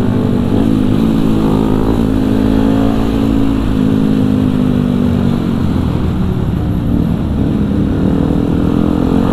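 A group of supermoto motorcycles rides together on a weekend morning run toward a rest area in Lembang, with loud, close engines droning and revving steadily and overlapping throughout, and no voices.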